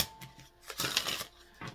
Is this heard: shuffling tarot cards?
yes